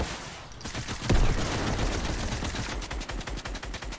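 Bursts of rapid gunfire from a Fortnite match, dense and loud, with a heavy blast near the start followed by sustained rattling shots and a quicker rhythmic volley toward the end.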